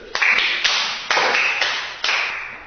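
A handful of sharp claps ring out in a math class, about five separate bursts spaced unevenly and loud and close, with no voices over them.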